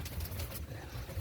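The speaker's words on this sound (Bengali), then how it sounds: "দেখেন বিগ সাইজের কবুতর, ডিম বাচ্চা খুব ভালো করে" A large pigeon coos softly in a pigeon loft, a low, faint, rounded murmur repeating over quiet background noise.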